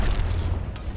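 A grenade explosion in Apex Legends, a short heavy boom with deep low rumble lasting about a second.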